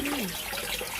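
Hot water runs from a kitchen tap into a pot, a steady close splashing trickle with a rising fill tone at the start, with no voices.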